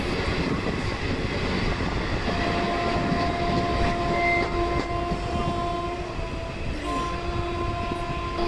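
A Jan Shatabdi superfast Pongal special train running from Tambaram toward Trichy, with a loud continuous rumble and rattle of carriages and a sustained horn blast partway through, heard up close.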